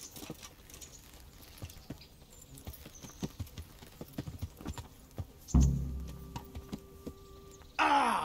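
Horse hooves clip-clopping in the medieval video game Kingdom Come: Deliverance, a rapid, fairly close series of light clops that is joined partway through by louder bursts of game sound.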